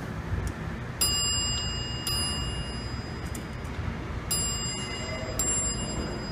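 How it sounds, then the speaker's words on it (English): A Dover hydraulic elevator in a worn parking garage sounds its bell, with several sharp, ringing dings at irregular intervals over a steady mechanical hum, fairly close and with no talk. "Let's make the bell go off."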